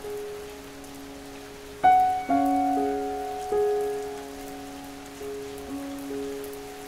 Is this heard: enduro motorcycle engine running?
no